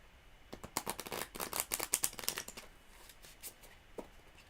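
Tarot cards being shuffled in quick riffling bursts, close and crisp, loudest in the middle, then a few softer taps and flicks as it settles.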